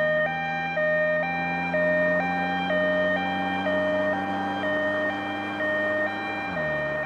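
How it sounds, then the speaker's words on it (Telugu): An ambulance siren in a comedy film scene: a loud two-tone hi-lo wail alternating in a regular rhythm over a low engine hum, with no talking. "అంబులెన్స్ వస్తుంది."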